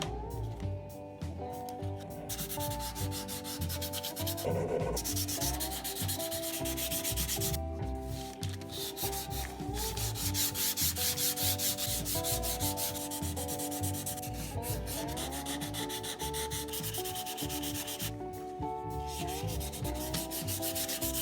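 Wood being sanded by hand with coarse P120 grit sandpaper, a steady, close, continuous scratchy rubbing that runs unbroken with brief shifts in stroke, with no talk over it.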